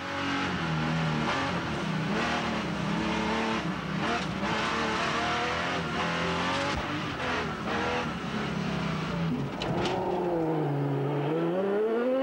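Marcel Tarès's BMW race car at the 1997 24 Heures de Chamonix ice race, its engine howling and revving hard with rising and falling pitch, joined by tire squeal and another car passing close.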